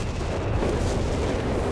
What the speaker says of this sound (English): More massive artillery strikes